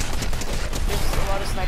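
Sniper gunfire in the video game Fortnite, dense, crackling shots in quick succession over a busy game soundscape, loud and continuous with talk mixed in.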